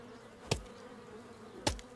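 Buzzing bees in a video game hum steadily and quietly, broken by two sharp, loud thumps spaced about a second apart, with no voices.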